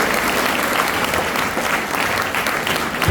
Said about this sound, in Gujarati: આપ ફરી એકવાર તાળીના ગડગડાટથી